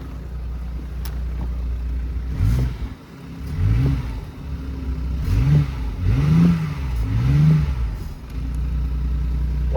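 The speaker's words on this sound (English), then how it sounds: "Let's give it a rev." BMW i8 with a B38 engine running after new ignition coils are installed, revved several times in rising and falling surges over a steady idle, loud and close with no talking.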